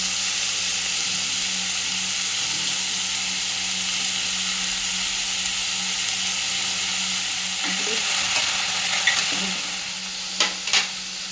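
Sautéing in a frying pan for scrambled egg masala, salted to soften faster: a steady broadband sizzle fills the clip, with a few stirring scrapes and taps near the end.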